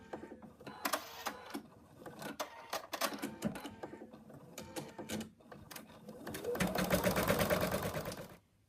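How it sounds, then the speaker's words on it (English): An embroidery machine stitches a fabric outline with a steady, close, rapid mechanical clatter that rises into a louder, busier whir near the end before stopping. Speech is faintly present underneath. "The machine has stitched the outline"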